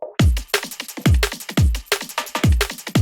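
Drum mix with reverb and parallel drum buses in a track breakdown, loud deep kicks and crisp snare hits pounding in a steady driving groove with a wide, roomy tail, heard alone without voices.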